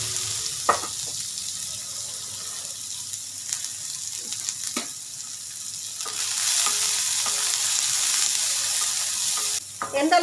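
Chopped onion sizzling steadily in hot oil, with occasional stirring clinks and scrapes, the frying growing louder partway through.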